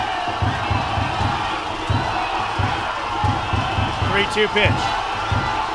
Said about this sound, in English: Crowd's going crazy.